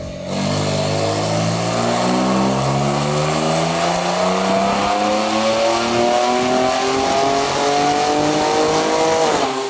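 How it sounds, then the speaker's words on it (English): A single-turbo Kia Stinger revs hard on a dyno, steadily climbing in pitch, loud and sustained for about ten seconds, with no talking. "Once it's finished loading, we're going to re-dyno it and see what we can get."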